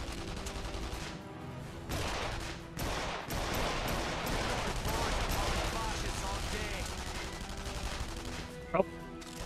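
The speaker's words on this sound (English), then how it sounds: "Oh, it's a strong gun." Dense, continuous video-game gunfire, loud rapid shots blending with explosive bursts and heavy chaotic noise, with a voice briefly speaking over the barrage.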